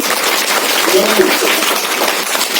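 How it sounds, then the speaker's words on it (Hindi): An audience at a children's television quiz show claps steadily, a dense, even wash of applause that continues without a break for the whole span. "जोरदार ताली बजा दीजिए।"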